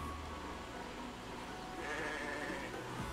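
A sheep bleats in the video game Fire Emblem: Engage, a single drawn-out bleat rising late over a quiet, steady background.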